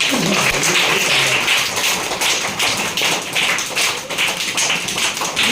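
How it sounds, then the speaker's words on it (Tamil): Children at a school clapping their hands together, a dense, energetic burst of many overlapping claps filling the space steadily from start to finish. "எல்லாம் ஒரு நல்ல ஜோரா கை தட்டுக்கிறாங்க"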